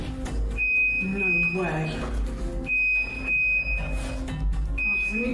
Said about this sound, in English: That's what the beeping is. It's the fridge.